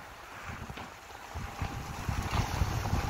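A small speedboat, about six metres long, runs at full throttle out at sea, its engine hum and hull slap mixed with water and wind buffeting the microphone, growing slightly louder over the few seconds.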